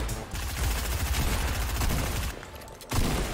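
Rapid bursts of gunfire from a Fortnite weapon, loud and dense, rattling almost continuously with a brief gap before another burst near the end.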